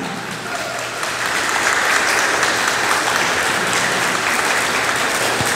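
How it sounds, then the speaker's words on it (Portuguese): Congregation in a Lutheran church in Novo Hamburgo claps for a newly baptized child, a dense, sustained round of applause filling the room at an even, loud level throughout. "a congregação bate palmas aí para o pequeno Gilmar"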